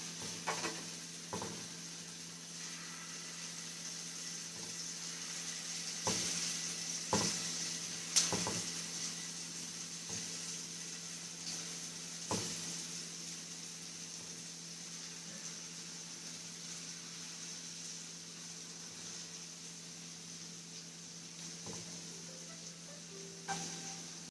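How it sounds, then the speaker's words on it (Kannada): Homemade egg puffs fry in hot oil over a low flame, with a soft, even sizzle that runs throughout and is broken by occasional light clinks and stirring sounds. "ಇದು ಫ್ರೈ ಆಗ್ತಾ ಇದೆ ಜಾಸ್ತಿ ಬೇಡ ಒಂದು ಸ್ವಲ್ಪ ಸ್ವಲ್ಪ ಎಲ್ಲಾ ಎಲ್ಲ ಸೈಡಲ್ಲೂ ಕೂಡ ಫ್ರೈ ಮಾಡಬೇಕು ಲೋ ಫ್ಲೇಮಲ್ಲೇ"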